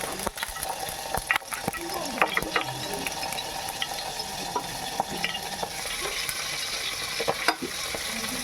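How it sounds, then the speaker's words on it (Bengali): Mustard oil heating in a kadai sizzles and crackles steadily, with scattered sharp pops and occasional clinks over a continuous hiss, close and fairly quiet. "তেলকে গরম হতে দেব।"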